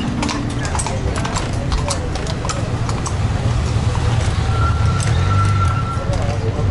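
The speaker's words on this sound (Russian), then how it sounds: "И по этой же дороге ходят лошади." Steady clip-clop of horse hooves on a hard seafront road in Antalya, moderately close, with continuous traffic and city noise around and people talking in the background.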